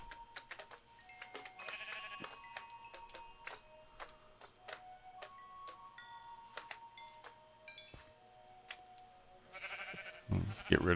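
Sheep bleats from the video game Minecraft, several short game sounds scattered across the stretch over a low background hum, with a louder burst of activity near the end.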